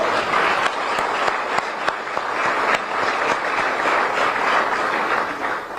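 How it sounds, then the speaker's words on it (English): Audience applause for two trustees at a university press conference introducing a new men's basketball coach, a steady roomful of clapping holding at even loudness throughout, with a few sharper individual claps poking through. "If we could give them a round of applause"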